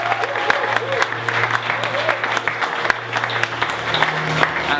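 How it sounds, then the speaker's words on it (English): A club crowd applauds a performer named John after a live set, a steady mass of clapping throughout with a low sustained hum from the stage underneath. "Let's give John a round of applause again"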